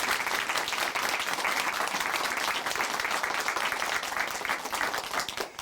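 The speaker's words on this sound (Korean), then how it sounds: "다시 한번 박수 보내드릴게요." Warm, steady applause from a church audience after a testimony, dense and even throughout, with no speech over it.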